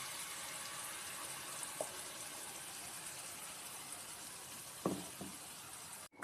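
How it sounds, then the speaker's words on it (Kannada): Ground masala frying in oil in a pan for an alasande (black-eyed pea) kootu, a faint, steady sizzle with a few soft clinks, no talk. "ಇದು ಎಣ್ಣೆಯಲ್ಲಿ ಸ್ವಲ್ಪ ಫ್ರೈ ಆಗಲಿ ಚೂರು."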